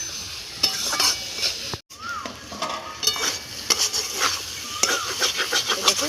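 Banana stem being sautéed with spices in a pan, a spatula scraping and stirring over a steady sizzle of oil, with repeated clattering strokes close up.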